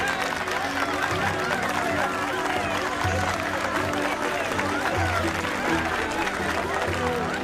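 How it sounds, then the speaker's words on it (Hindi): Applause and clapping from a village crowd, a dense steady patter of many hands with voices chattering through it. "तालियां बजाओ इनके लिए।"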